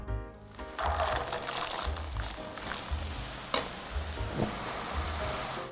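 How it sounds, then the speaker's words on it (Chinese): Small glutinous rice cubes deep-fry in hot oil, a dense, even sizzle that swells up after a brief quieter start and holds steady with occasional light bubbling pops. "那接下来就分批次的把切好的糯米小方丁放在油里炸至金黄。"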